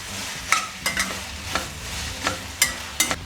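Onions and green chilies fry in a pan with a soft continuous sizzle, while a spoon stirs in repeated scraping strokes, about seven sharp stirs close up, no voices.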